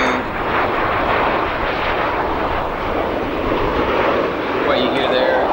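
An American Airlines Boeing 737-800 jet passes at O'Hare International Airport, its engines a steady, loud broadband roar that fills the whole stretch with little change in level.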